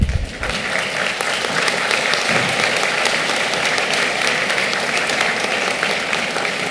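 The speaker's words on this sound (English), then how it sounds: "Please thank them by clapping." Graduates at a master's degree ceremony in Australia clap for their families, producing loud, dense, sustained applause from a large hall crowd that holds steady throughout.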